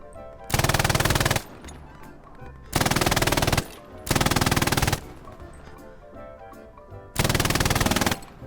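Machine-gun fire in the Hell Let Loose video game: four loud, sustained automatic bursts of rapid shots, each about a second long, separated by brief pauses of quieter background battle noise.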